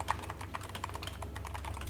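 Loud, clicky computer keyboard typed steadily at close range during an actual-play tabletop role-playing session, rapid keystrokes clattering over a low background hum with no talk.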